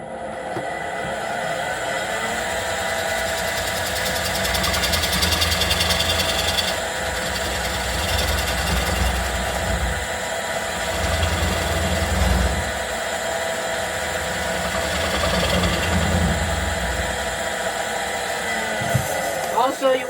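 A wood lathe spins a rough-turned bowl as a gouge flattens the tenon that will seat in the chuck, giving a steady, close whirring hum with broad scraping noise that swells and eases in passes throughout.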